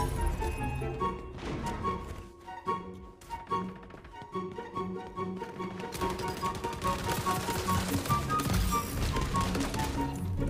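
Dragon Breath incendiary shotgun blasts in a multiplayer shooter, rapid repeated gunfire bursts layered over a dense, loud game soundtrack and effects, continuous throughout.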